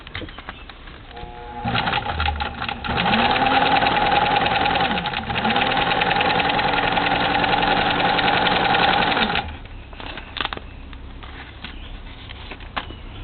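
A PFAFF 332 sewing machine runs steadily for about eight seconds with a loud, fast mechanical whir and rhythmic needle clatter, then stops, leaving a quieter background.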